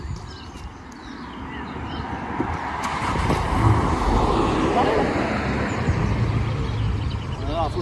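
A car fitted with an Active Sound Exhaust pulls away, a low steady engine rumble rising slightly as it drives off outdoors, with a voice briefly audible.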